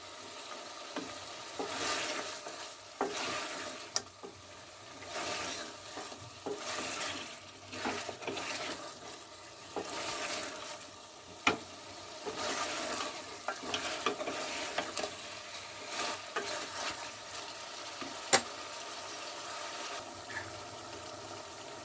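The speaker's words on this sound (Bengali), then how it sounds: "আদা ও রসুন বাটা দিয়ে আবারও এক দুবার নাড়ে নেড়ে ছেড়ে নেবো মাংসের সঙ্গে" Desi chicken pieces with ginger-garlic paste fry in a pan while being stirred: a steady crackling sizzle with soft scraping strokes and occasional sharp ticks, moderately close, no voices.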